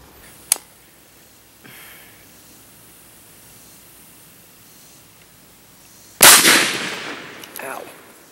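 .20 wildcat rifle with magnum primers fires a single loud, sharp shot near the end, its blast decaying into a ringing tail, after a quiet stretch with a couple of faint clicks and knocks.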